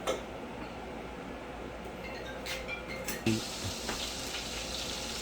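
Butter with a little oil sizzles softly in a kadai pan, a steady faint hiss with a few clicks and knocks from utensils, close and continuous throughout.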